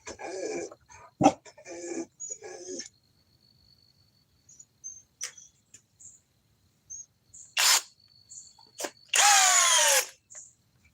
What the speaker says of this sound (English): Speed 2 for the compact flex hammer drill.